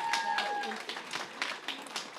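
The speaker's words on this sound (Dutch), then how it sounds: "Een applaus, heel groot" An audience at a local talent show in Eemnes applauds after a 12-year-old girl's singing performance: steady, moderately loud clapping from a crowd, with a brief tonal sound at the start.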